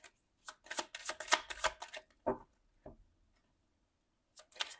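Oracle cards shuffled by hand, several quick close riffling bursts, then pauses and a final short shuffle in a quiet room.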